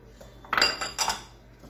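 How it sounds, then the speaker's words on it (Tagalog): Grated cheddar and Parmesan-style cheese are mixed in a bowl, giving a few soft, close clinks of a utensil against the bowl over near silence. "I just mix together our cheddar and our Pamilano."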